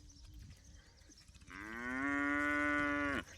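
A single long, loud cow moo rises and holds for nearly two seconds, then cuts off, following quieter background murmur.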